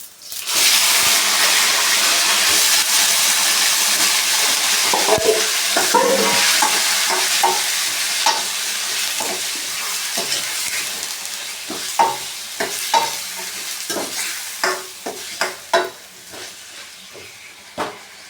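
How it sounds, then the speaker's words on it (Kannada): Chicken pieces hit a hot pan with cumin and pepper and fry with a loud, hissing sizzle that slowly fades, followed by scattered scraping and stirring knocks of a spoon, close and without talk. "ಚಿಕನ್ ಫ್ರೈ ಮಾಡ್ಕೊಳ್ಳೋಣ"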